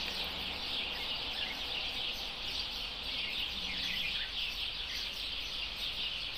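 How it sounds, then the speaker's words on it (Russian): Small birds chirping at dawn around 5 a.m. in Mersin, Turkey: a dense, steady chorus of high twittering calls at moderate distance, with no talk. "Посмотрите, как птички чирикают,"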